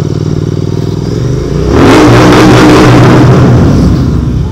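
A Royal Enfield Continental GT 650 motorcycle revs inside a tunnel: a steady close idle burble swells into a loud, echoing rev that holds through the end, with no talking.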